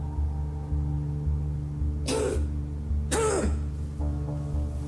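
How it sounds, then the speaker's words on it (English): Two rough throat-clearing coughs, a second apart, sound close by over a steady low engine drone, in a horror film. "That cough don't sound too good."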